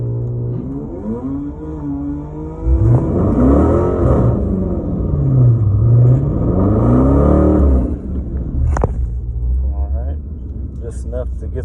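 A drag race car accelerates off the line during test and tune at Thundervalley. The engine rises into a loud, sweeping rev that climbs and dips for several seconds, then eases back to a steady rumble, with talk underneath.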